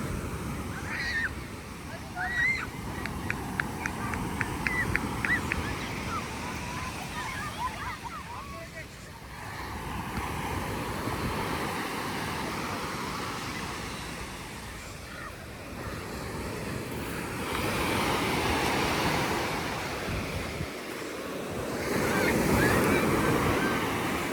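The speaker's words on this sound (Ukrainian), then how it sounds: "Ну і ось же море." Sea waves roll steadily onto a gently sloping sandy beach with shingle at the waterline in Side, Turkey, heard as a continuous washing surf with rushes of wind over the microphone. Faint chirps and distant activity sit in the background.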